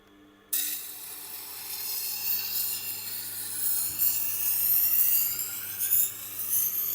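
A ceramic knife is ground against a Tormek Tiger Stone of 4000 grit, giving a continuous bright hissing rasp with steady strokes, close and moderately loud, without speech.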